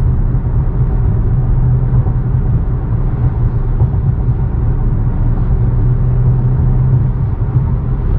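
A 2016 BMW M235i with a six-speed manual accelerates, its engine a steady, loud rumbling drone heard from inside the cabin, continuous and unbroken.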